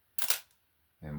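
Shutter of a Minolta XG7 35mm film camera firing, a single sharp mechanical snap followed by a brief whir and a second click about a second later, near and fairly quiet.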